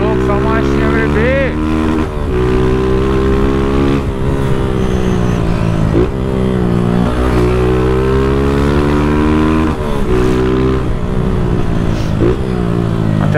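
A Honda Titan 160 motorcycle engine runs loud and close while riding without mirrors, its steady drone rising and falling through gear changes and throttle shifts, with someone talking over it.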